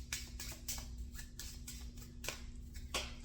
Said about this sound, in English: we will shuffle these cards